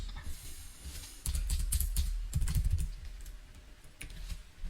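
Fingers type on a computer keyboard in a quick run of close keystrokes, with a burst of denser clatter midway and a faint hiss beneath, while a graphic design program is in use.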